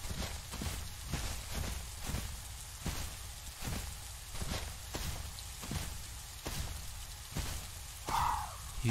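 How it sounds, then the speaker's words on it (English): Steady rain in a video game falls as a dense hiss with regular soft thuds like footsteps, and a brief tonal chirp near the end. "Alright, it's raining now"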